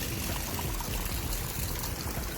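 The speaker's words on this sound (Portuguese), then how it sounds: "Olha essa água, uma espuma, água preta." Dark, foamy rainwater stained by wildfire smoke pours steadily in Rio Grande do Sul, a continuous broadband rushing and trickling wash at moderate level with no voices.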